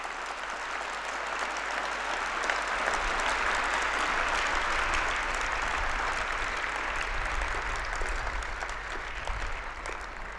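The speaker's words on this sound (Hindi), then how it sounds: "ताली बजाओ उस महिला के लिए एक बार।" A seminar audience claps for a woman in a long, steady wave of applause that holds strong and dense from start to finish with no talk over it.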